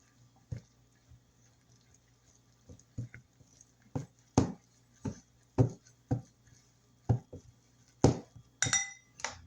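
Butter and lemon juice mixed in a bowl for a lemon pecan pound cake, a series of sharp clinks and taps of a utensil against the bowl, close and intermittent, quickening toward the end.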